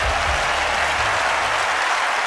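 Steady, dense applause from a stadium crowd at a London 2012 video game medal result, loud and continuous for a couple of seconds with no talking.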